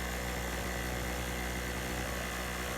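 A portable generator engine with a muffler runs at a steady, dense drone, close and continuous with no talk.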